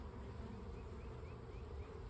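Honeybees buzz at an open hive during a spring inspection, a faint, steady hum of many wings close by, with no talk over it.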